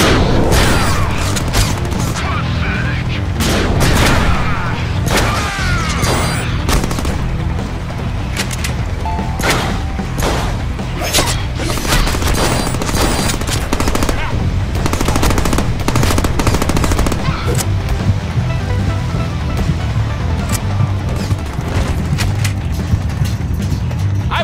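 Dense, loud, continuous automatic gunfire from a gun set to perforate in the Deadpool video game, with rapid shots and booming impacts running nonstop.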